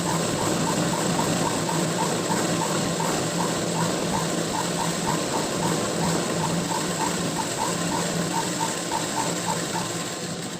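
Domestic sewing machine stitching a half-inch folded fabric strip for a blouse back patch, a steady fast mechanical clatter running continuously and fairly close throughout.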